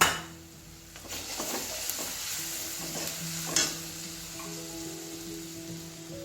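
Onions and spices sizzle and get stirred in a pan for an Assamese fish curry, with a steady low frying hiss, utensil scrapes, and a sharper clatter partway through.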